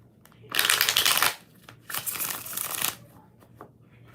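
Tarot cards being shuffled by hand, two quick, crisp riffling bursts close up, separated by a short pause, with quiet room sound around them.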